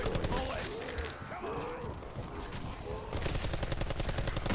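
Rapid gunfire from Call of Duty Black Ops 4 rattles in dense automatic bursts throughout, loud and close, with game effects mixed underneath.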